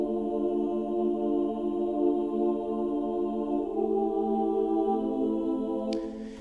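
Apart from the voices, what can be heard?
female choir singing in film score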